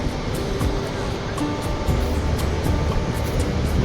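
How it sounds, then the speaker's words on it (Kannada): Gaganachukki waterfall pours water at a viewpoint, giving a loud, steady, broadband rush that fills the whole stretch without breaks and without talk. "ಗಗನ ಚುಕ್ಕಿ ಫಾಲ್ಸಲ್ಲೂ 1, 2, 3 ಭಾಗದಲ್ಲಿ ನೀರು ಹರಿತಾ ಇದೆ"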